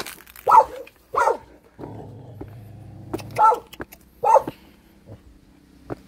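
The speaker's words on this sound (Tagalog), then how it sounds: "Manghahabol na ang mga aso." A few sharp dog barks ring out at irregular intervals, with a low engine-like hum running underneath in the middle.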